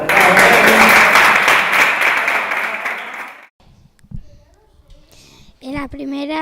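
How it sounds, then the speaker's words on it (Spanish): Audience applause at a Mini GP 110 motorcycle racing press room in Zuera, loud and dense for about three seconds, then stopping abruptly, followed by quiet room noise and brief speech. "Un aplauso."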